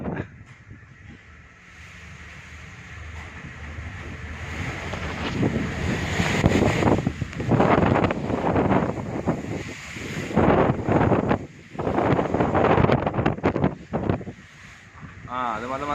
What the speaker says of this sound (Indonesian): Sangat kencang teman-teman dan angin deras di Pulau Merak ini teman-teman.